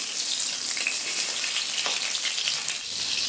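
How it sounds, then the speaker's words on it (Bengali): Spiced fish pieces shallow-frying in a pan over a medium flame, a dense continuous hiss and crackle of hot oil at close range, steady and fairly loud with no talking. "এক সাইড ভাজা হয়ে গেছে আর এক সাইড উল্টে দেবো"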